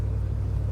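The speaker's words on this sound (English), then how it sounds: "I just turned it on, saw that it's idling good" A 1968 Mercury Cougar engine idles in a steady low rumble with an even, regular pulse, close and moderately loud, with no talk over it.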